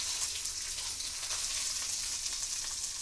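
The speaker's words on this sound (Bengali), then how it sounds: "নুন দিয়ে ভালো করে নাড়াচাড়া করে নিই আমগুলো" Mangoes stirred with salt and turmeric in a hot pan give a steady, close sizzle of frying with faint scraping of a spoon, continuous and even throughout with no talking.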